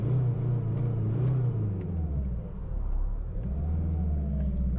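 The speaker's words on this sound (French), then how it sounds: "Écoute, s'il te plaît, le 4 cylindres en ligne." A Mercedes inline four-cylinder engine rumbles loudly and close, its tone rising and falling as the car accelerates, with a steady deep drone filling the whole span and no talk.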